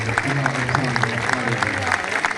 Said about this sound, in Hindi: सब कौमों तालियां बजाओ अपने खुदावंद के लिए